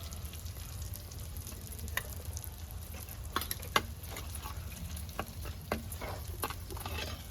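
Spice paste frying in a pan with onion and chili powder for fish pulusu, a steady soft sizzle with scattered clicks and scrapes of stirring, moderately close and alone.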